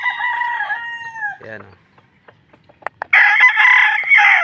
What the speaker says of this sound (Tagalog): Napakagandang manok, authentic ng AEJ.